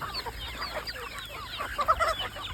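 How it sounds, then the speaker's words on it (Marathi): Free-range country chickens cluck in soft, scattered bursts while pecking at homemade flour feed, with small peeps over a faint background hum and no talking. "बघू शकतो मित्रांनो तुम्ही ते आपण बनवलेलं पीठ ते किती कोंबड्या किती आवडीने खातात बघा"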